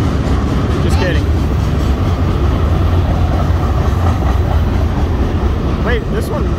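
BNSF mixed freight train with coal cars and a Canadian Pacific locomotive in the lead group passes close by: a loud, continuous rumble and wheel clatter with brief squeals, and no break throughout.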